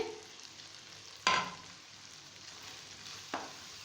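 Chickpeas frying in a pan for Lahori chikar cholay as curd is added, a low continuous sizzle broken by two sharp hissing bursts as ingredients hit the hot oil.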